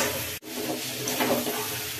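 Spice paste sizzles steadily as it fries in a pan for a Bengali dish, with a continuous close crackle and a brief stir partway through. No one speaks.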